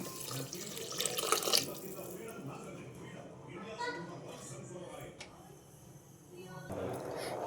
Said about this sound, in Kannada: 1 ಕಪ್ ಅಕ್ಕಿಗೆ 2 ಕಪ್ ನೀರನ್ನು ನಾನು ಹಾಕ್ತಾಯಿದ್ದೀನಿ